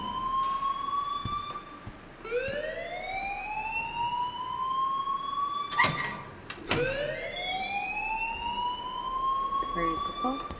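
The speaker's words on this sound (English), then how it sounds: "please turn off that alarm since that's your job" A school alarm in the game Life Is Strange wails through repeated rising siren sweeps, three loud climbing tones in turn, with faint voices underneath.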